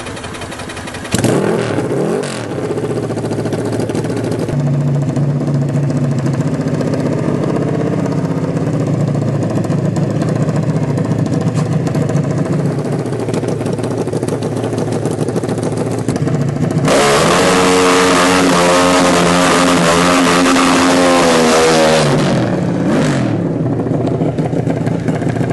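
A nitro-fuelled motorcycle engine on the Bonneville salt flats runs loudly and continuously, idling with a rough drone, then surging into a strong rev with rising harmonics before settling again.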